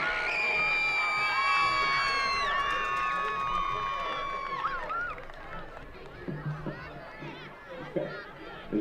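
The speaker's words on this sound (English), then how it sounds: "How about a big round of applause for the Mosinee High School dance team?" Crowd at a high school football game cheering and whooping for the Mosinee High School dance team, loud shouts and high cries at first, settling into a murmur of chatter and scattered voices.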